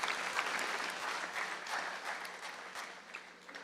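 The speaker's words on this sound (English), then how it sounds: "You need to give yourself a round of applause" A crowd of about 650 at an electric cooperative's annual meeting gives a round of applause, fairly faint, even clapping from a large room that rises and falls slightly over a few seconds.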